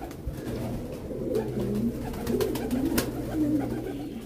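Pigeons from a loft about to be released, cooing in low, rolling phrases that overlap and repeat steadily throughout, fairly close, with faint background noise and no talk.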